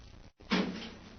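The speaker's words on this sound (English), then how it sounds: "Better close the door behind us" Heavy airlock door in a tunnel swings shut with a muffled thud and a hollow, slightly echoing tail, preceded by a brief silence, close and alone with no voices.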